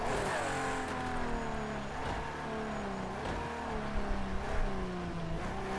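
A race car engine in the video game Project CARS 2 revs and shifts through gears continuously, pitch rising and dropping in loud sweeps, steady and unbroken with no voices.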